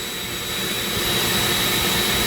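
A Dremel rotary tool runs at low speed while carving a zebra wood ring. It gives a brief, steady, close high-pitched whine with a rushing, grinding edge.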